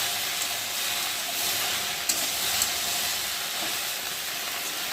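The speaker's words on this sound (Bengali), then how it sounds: "পেঁয়াজ ফোড়ন দিয়ে, শুকনো লঙ্কা ফোড়ন দিয়ে ভেন্ডি ভাজা হচ্ছে।" Okra (bhindi) fries in a pan with onion and dried chilli tempering, a steady close hissing sizzle that runs without a break, with a couple of faint pops.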